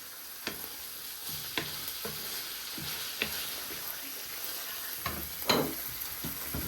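Sloppy joe mixture seasoned with cayenne sizzles quietly in a pan while a utensil stirs it, sparse scrapes and clicks of the spoon against the pan over a soft, steady fry, with no talk.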